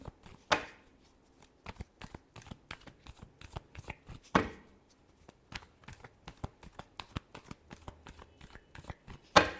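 Tarot cards being shuffled by hand, rapid crisp riffles in two longer bursts followed by many quick separate flicks and taps, close and clear.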